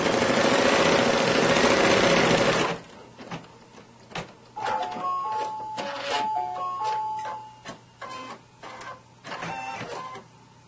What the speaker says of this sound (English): stitch out your tack down stitch